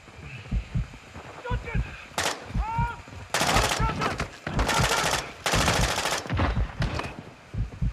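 Bursts of automatic gunfire in the Call of Duty DMZ game, with repeated loud rattling volleys broken by short pauses, while radio-style voices talk over the shooting.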